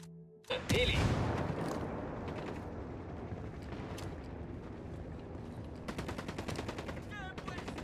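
A single loud sniper rifle shot rings out near the start in the Ghost Recon Wildlands campaign, followed by a long rumbling echo, with more distant gunfire bursts later and low voices talking underneath.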